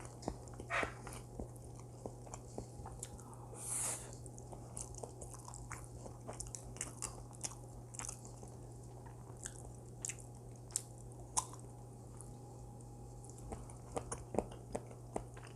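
Someone chews quail eggs braised in soy sauce, giving soft close-up bites and scattered wet mouth clicks over a low steady hum, with no talking.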